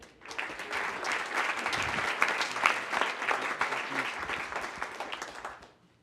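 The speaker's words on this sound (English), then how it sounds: "Let's give him a round of applause." An audience breaks into applause for a volunteer at a meetup, a dense patter of clapping that swells, holds steady for several seconds, then fades out.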